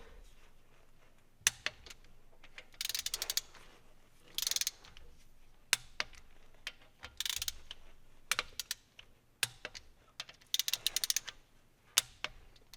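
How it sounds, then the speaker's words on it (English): Torque wrench clicking as bolts on a 5.3L Silverado V8 are tightened to 18 foot-pounds during a cam install, with repeated sharp ratcheting bursts and single clicks spread irregularly across the clip, close and moderately loud, no talking. "Now these get torqued to 18 foot-pounds."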